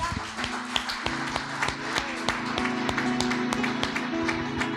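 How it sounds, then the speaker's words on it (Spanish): A church congregation gives a welcome round of applause, scattered sharp claps building into a steady patter over a low sustained hum. "Le damos un aplauso de bienvenida"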